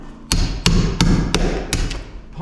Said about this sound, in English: pine chips or chisels really nicely.